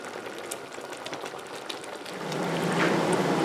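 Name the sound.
quince boiling in a pot for marmalade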